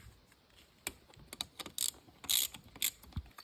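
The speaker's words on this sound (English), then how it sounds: "we're going to start by taking this valve cover off, which is two 10mm bolts right here." A hand ratchet backing out the 10mm valve cover bolts on a 1999 Honda XR100R engine, making close, faint bursts of quick metallic clicks in short irregular runs, with no talking.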